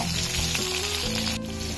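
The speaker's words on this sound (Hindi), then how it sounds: "उसके बाद थोड़ा सा एक मिनट के लिए फ्राई करना है, मिर्चे फ्राई हो जाए थोड़ा सा" Green chilies frying in a hot pan for a South Indian chutney: a loud, continuous crackling sizzle, close and steady, with no voices.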